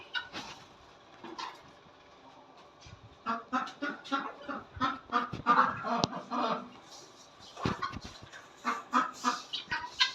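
Ducks and chickens in a home garden, a string of loud nasal squawks and honks in uneven bursts, close to the microphone, with brief quiet gaps between calls.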